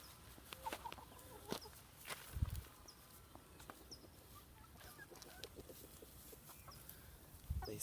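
Backyard chickens cluck softly and intermittently near a cornfield, with a few brief bumps and footsteps; the calls are faint against steady outdoor background noise.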